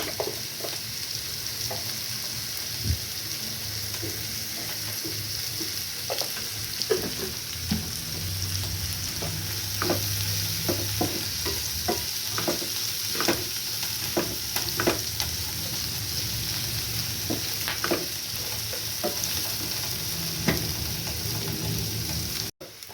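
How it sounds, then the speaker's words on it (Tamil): Onion masala sautéing in a pan for egg curry: steady close sizzle with repeated spatula scrapes and clicks throughout, ending abruptly, no talk. "இது நம்ம வதங்கட்டும்."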